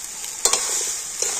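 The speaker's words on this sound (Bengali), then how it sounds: "তো মশলার সাথে আলু আর কুমড়োটা আবার একটু আমি নাড়াচাড়া করে নিচ্ছি।" Potato and pumpkin pieces, fried beforehand, are stirred in a spice masala in a pan: a steady bright sizzle with a few soft scraping stirs, close up.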